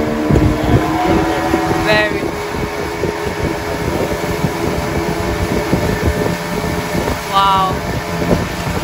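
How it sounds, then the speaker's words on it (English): A motorized canoe's engine drones continuously at close range, steady and loud, with a couple of brief spoken exclamations over it. "The voice of the motorized canoe, it drives them away."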